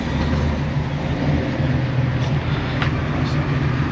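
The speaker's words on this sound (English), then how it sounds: "Have a listen to that big block. This thing sounds so tough pulling in." A big-block V8 car rumbles steadily at a cars-and-coffee meet at Victoria Point, a dense, continuous low engine drone that holds a constant level throughout as the car pulls in.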